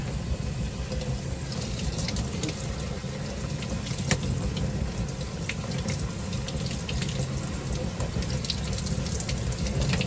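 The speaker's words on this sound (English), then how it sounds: "if you have a little sprayer, you can come in here with the sprayer" A small sprayer rinses an Audi RS5 B9.5 air filter. The water makes a steady, close hiss that continues unbroken through the whole clip.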